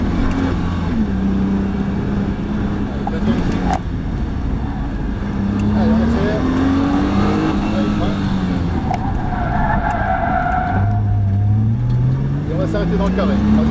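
A Nissan Juke-R engine revs and accelerates while the car drifts, its pitch rising and falling through gear changes, loud and close, with people talking over it.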